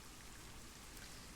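Steady rain falls in the Planet Zoo game world, a dense, even hiss of drops that fills the short stretch without pause or voices.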